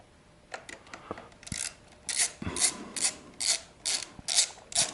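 A ratchet tightens a nut near the carburetor of a KLR 650 motorcycle, giving a close run of evenly spaced clicking strokes that grow louder and steadier after a few softer fiddling sounds.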